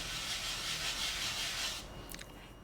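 A hand rubbing across a painted MDF surface, a soft continuous close-up swishing friction lasting under two seconds, then a few faint squeaky scrapes.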